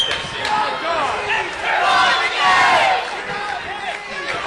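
A high school basketball crowd in a Kentucky gym, Glasgow at Warren Central, roars and shouts in a loud, swelling wave under a commentator's voice.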